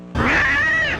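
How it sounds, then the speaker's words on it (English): A black cat yowls once, loud and close, a sudden rising-and-falling cry lasting about a second. "And then a black cat suddenly jumps out from out of nowhere."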